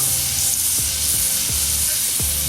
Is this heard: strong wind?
no